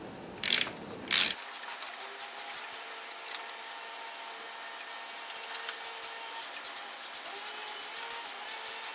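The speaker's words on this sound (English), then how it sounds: "Jack it up a little. A little more." A car jack ratchets in quick clicking strokes while raising a 2006-2011 Honda Civic for motor mount and torque rod work. The strokes come in bursts with pauses, close and clear, and no one speaks.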